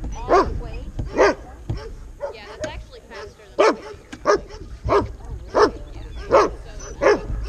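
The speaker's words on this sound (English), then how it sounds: "Next, go bark." A dog barks repeatedly on command during competitive dog training in Oregon's Rogue Valley, roughly a dozen loud, evenly spaced barks close by, with occasional whimpers between them.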